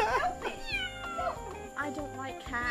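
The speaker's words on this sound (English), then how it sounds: "Cat." A cat yowls and meows repeatedly, strained and wavering, mixed with loud music and people talking and reacting over it throughout.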